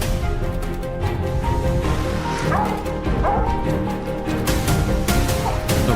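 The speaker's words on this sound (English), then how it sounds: "The rapid barking of the hunting dogs led Blake deeper into the forest." Hunting dogs bark rapidly and loudly close by in a California forest during a wild boar hunt, a dense, unbroken volley of yips and bow-wows with excited whimpers mixed in.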